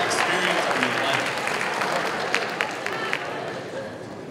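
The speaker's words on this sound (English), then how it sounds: "Give all those people a round of applause." Audience applause at a hackathon opening ceremony, greeting first-time participants: a steady wash of clapping from a large crowd with scattered sharp claps and voices mixed in.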